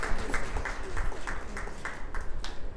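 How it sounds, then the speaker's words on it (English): Applause from an audience of teachers at a motivational session on effective teaching, a steady wash of hand claps with a few sharper claps standing out, moderately loud throughout. "big round of applause for the mother teachers especially"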